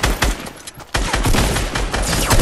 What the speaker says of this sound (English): Yeah, I used the machine gun.